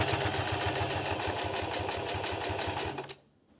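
A Singer Heavy Duty sewing machine stitches along a leather bracelet or belt edge at full motor speed, giving a steady, loud, rapid mechanical chatter that runs alone for about three seconds and then stops abruptly.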